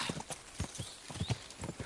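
Horse hooves clip-clop at a steady trot in Kingdom Come: Deliverance II. The footfalls are faint and rhythmic, and a soft voice and game ambience sit underneath.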